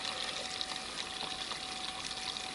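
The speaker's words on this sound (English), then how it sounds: "run it under cold water for a few minutes until you can get your hands right in there" Cold tap water runs steadily over cooked pasta in a kitchen sink, a faint, even hiss and splash with no talking.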